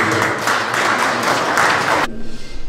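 Applause from an audience welcoming the education superintendent at the opening ceremony of a human rights and art exhibition by disabled artists, a dense loud burst that stops abruptly after about two seconds.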